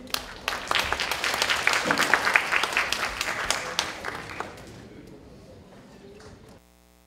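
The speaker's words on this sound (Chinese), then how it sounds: "让我们用最热烈的掌声欢迎陈文茜陈老师以及李颖李" An audience applauds to welcome lecturers at a university talk on national energy policy; loud, dense clapping fills the hall for about four seconds, then fades to scattered claps and quiet.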